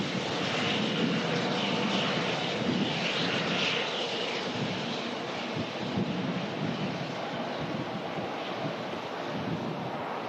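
An Airbus A350 airliner lands on runway 05 left at Manchester Airport, giving a steady, broad engine roar with wind noise on the microphone that holds at an even level throughout.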